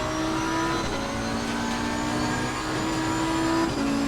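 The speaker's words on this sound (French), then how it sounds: "On voit une voiture dans les rétros qui me rattrape derrière." Race car engine in the sim racing game Assetto Corsa Competizione, a steady loud drone of one car with another closing in from behind, sustained throughout with no pauses.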